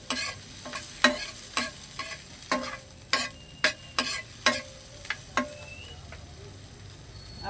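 Onion and ginger sauté in hot oil for a fish sinigang while a utensil stirs and scrapes the pan in repeated sharp clicks. A light sizzle runs steadily under the clatter, which is close and moderately loud.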